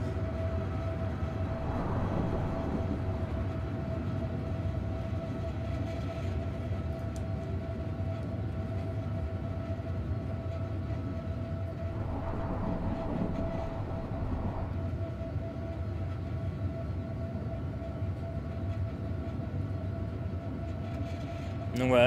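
Electric multiple-unit train engine drone in Train Simulator 2020 on a night run from Rome to Paris on the Dole–Vallorbe line, a steady low rumble with a sustained tonal hum throughout and faint swells from a passing horn-like tone.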